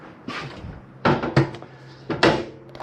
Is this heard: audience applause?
no